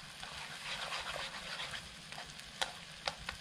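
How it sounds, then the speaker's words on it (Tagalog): A spoon stirs flour and cornstarch into a mixture for a burger steak sauce, giving soft, steady scraping and swishing that ends in a few sharper clicks against the pan. "Haluin natin. Para walang buo-buo."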